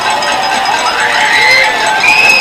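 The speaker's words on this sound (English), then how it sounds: "The home crowd on its feet and waving its hands." Home crowd at a high school football game in El Reno, Southeast against the El Reno Indians, roaring steadily on a fourth-down stop, with shrill whistles rising above the dense noise.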